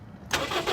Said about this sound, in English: Let it sit for 15 minutes and then we're going to start her up